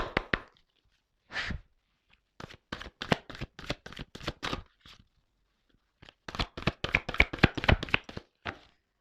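Large oracle cards being shuffled by hand, heard as bursts of quick, rapid flicking and slapping riffles, one brief burst and then two long clusters separated by pauses, close and clear with no talking.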